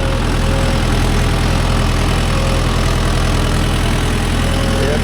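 Mahindra Yuvo Tech Plus 585 4WD tractor pulling a nine-tine cultivator through a field, its diesel engine a loud, steady, close droning hum with a constant low throb and no pauses.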